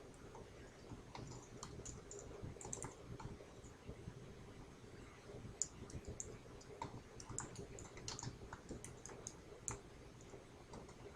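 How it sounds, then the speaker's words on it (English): Quiet, irregular clicking of keys on a computer keyboard, light and continuous with no talking. "Typing in all the information you see here."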